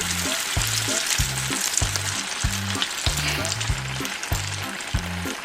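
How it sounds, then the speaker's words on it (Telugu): Chopped onions with green chillies frying in a pan for an egg curry, a steady bright sizzle with repeated low scraping strokes as they are stirred, close and alone. "ఇందులోనే కోసి పెట్టుకున్న ఉల్లిపాయ ముక్కలను అయితే వేసుకోవాలి. వేసుకొని బాగా కలుపుతూ వేసుకోవాలి."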